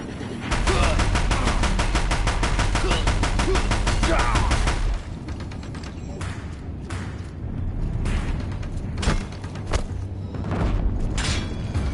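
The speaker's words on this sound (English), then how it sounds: "If the Deathbringers keep firing, this bridge will go." Deathbringer war machines fire their guns in the Horizon Zero Dawn video game, a loud dense rapid burst of gunfire for about five seconds, then scattered heavy booms and shots under game noise.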